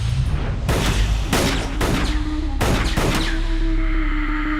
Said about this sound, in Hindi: ये सारी गोलियां तू उस पुतले के सीने में उतार कर क्या साबित करना चाहता है?